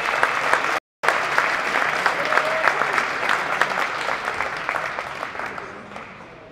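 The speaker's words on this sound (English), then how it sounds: "So we give 1 more round of applause to everybody." Sustained applause from a large crowd at a high school wrestling meet, with a brief cut near the start, then steady clapping that gradually thins out.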